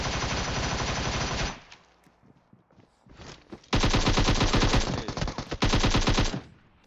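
Automatic gunfire from an AKM rifle in PUBG Mobile, played out in long dense bursts: a sustained rattle, a short pause with scattered faint sounds, then two more loud, rapid bursts close to the listener.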